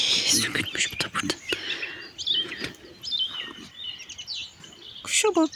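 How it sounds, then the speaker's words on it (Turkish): Songbird chirps and trills in a village yard, several short bursts scattered across the stretch, fairly close, with rustling and soft handling noises between them. "Kuşa bak ne güzel ötüyor ya."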